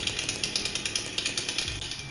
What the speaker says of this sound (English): I know what that means. Chainsaw.